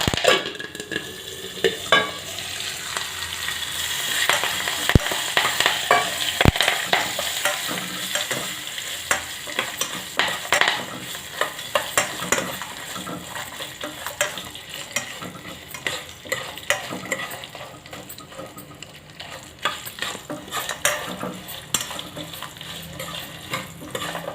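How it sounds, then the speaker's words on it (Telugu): Curry leaves crackling and sizzling in hot oil for a gooseberry pickle, with a sharp spitting burst at first settling into a steady fry, punctuated by a few spoon clicks and stirring strokes, close up. "ఆ కరివేపాకుని నేను ఇప్పుడు వేస్తున్నాను"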